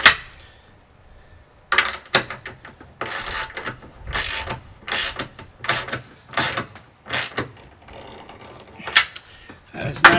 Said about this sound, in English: And then I'll simply attach these bolts. These are 9/16, so they're big boys.